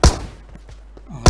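Two sharp, loud gunshots in PUBG on the Erangel map, one at the start and one at the end, with quiet, faint game noise in between.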